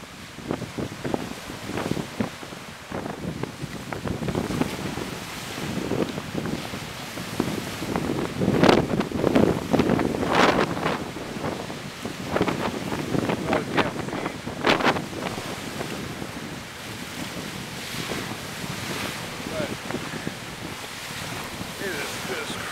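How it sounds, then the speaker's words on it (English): Ocean waves crashing during a windstorm at a boat anchorage, a continuous roar of surf and gusting wind buffeting the microphone, with louder surges of breaking water in the middle. "It is just crashing waves."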